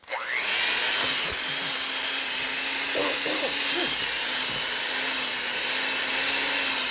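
An electric mixer beats sugar for a marble quick bread, giving a loud, steady motor whine that runs unbroken from start to finish, close by and with no talking.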